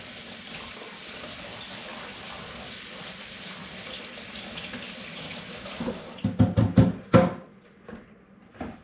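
Tap water runs steadily into a sink while hands are rinsed beneath it, a close continuous splash that cuts off near the end, followed by a few louder wet knocks and drips.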